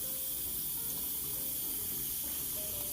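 Hot water runs steadily from a faucet in a 1979 slump block home, a continuous close hiss and splash with no pauses.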